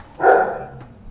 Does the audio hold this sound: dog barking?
yes